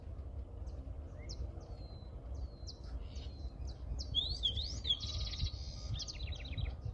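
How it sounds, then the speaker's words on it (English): A juvenile wild songbird answers a robot stimulus with a run of faint, high chirps and rising upsweeps that grow busier and more persistent, over a low rumbling background. "You see how the stimulus encourages the bird to try to do better, a more persistent and confident song."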